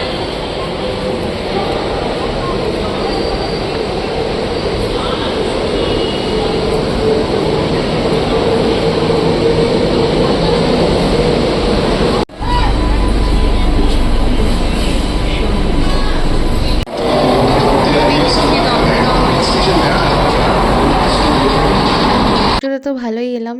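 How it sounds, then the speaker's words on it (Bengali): A local train bound for Dum Dum pulls into a station platform, a loud, continuous rumble and hum of the approaching carriages that holds steady for the whole stretch, with people talking nearby. "তো দেখো ট্রেন চলে আসছে, এবার আমরা চলে যাবো, কারণ চলে আসছে ট্রেন, দমদম যাবো"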